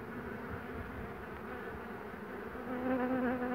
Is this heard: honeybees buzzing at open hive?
yes